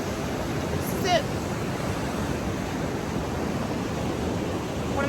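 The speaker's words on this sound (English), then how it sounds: "the water's just flowing, but it's not flowing down the dam." Water flowing at a dam outdoors makes a steady, broad rushing wash that continues evenly throughout, with some wind noise against the microphone.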